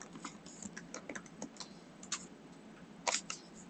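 Sparse, irregular keystrokes on a computer keyboard while entering a command in R, faint and close with short bursts of clicks and no talking.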